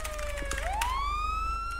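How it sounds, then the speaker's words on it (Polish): A video game police car siren wails loud and close, one steady tone that sweeps upward and then holds with no talk over it. "Jak się włączą te dwa syreny?"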